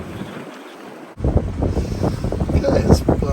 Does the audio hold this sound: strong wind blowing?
yes